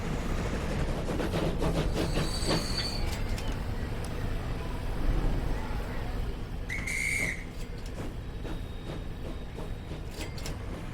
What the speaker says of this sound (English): Here comes a passenger train.